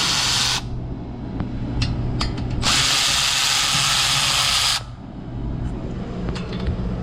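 A power tool whirs in loud bursts as brake caliper bolts are loosened and removed on a 2015-2020 Ford F150 diesel, with a high whine between the runs and a mechanical clatter underneath.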